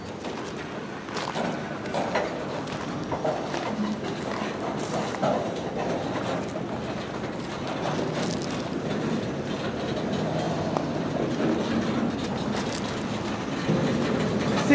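CSX freight train Q410, led by locomotive 5426, rolls past in a long steady rumble, wheels clicking rhythmically over rail joints as the cars go by, growing slightly louder toward the end.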